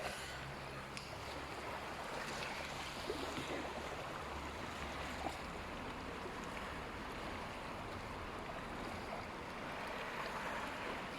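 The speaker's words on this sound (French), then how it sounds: "vous aurez le bruit des vagues derrière" Ocean waves at the sea at night under a full moon, a steady broadband wash of surf and wind rolling on continuously throughout, with no voices.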